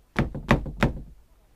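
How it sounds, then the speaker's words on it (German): Three firm knocks on a door in quick succession, fairly close and alone, followed by a quiet room tone. "klopft an die Tür"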